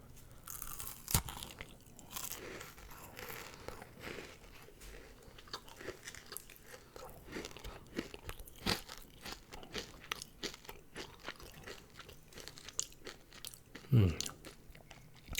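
Quiet, close crunching bites of a Butterfinger peanut butter candy bar followed by repeated crisp chewing, intermittent and soft, with brief breaths and mouth sounds in between.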